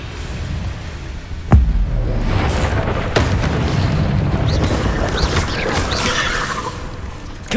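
In Hogwarts Legacy, a Confringo blast spell explodes in a sudden loud boom, followed by rumbling debris, crackles and softer secondary bursts, then another sharp hit at the very end.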